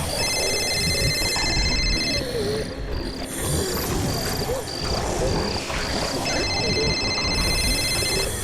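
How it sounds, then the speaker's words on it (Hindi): A phone rings in repeated electronic bursts, pausing between rings, over a loud, busy background noise. "जीत के फोन की आवाज"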